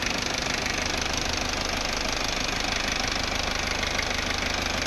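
A steady car engine idles close by, a continuous mechanical hum with a faint rhythmic knock and no voices.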